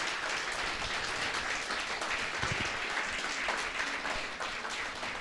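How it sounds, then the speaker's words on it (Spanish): Church congregation applause during a Spanish-language service, a faint, steady patter of many people clapping together, sustained evenly without break. "¿Le puedes dar una ofrenda de palmas a Él"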